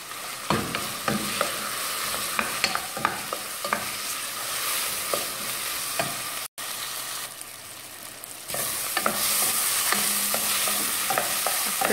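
Dried beef (carne seca) frying with onions in a pan, with a loud close sizzle and frequent utensil scrapes and taps, briefly cut off and then turning even louder, with no talking.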